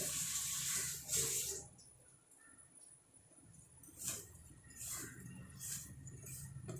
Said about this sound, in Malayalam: സ്വല്പം വെള്ളം അങ്ങ് തളിച്ചിട്ട്